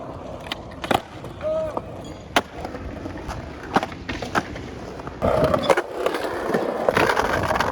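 Skateboard wheels rolling and decks clacking at a skate park, with sharp pops and impacts scattered through a steady rumble, louder rolling toward the end, and voices faintly in the background.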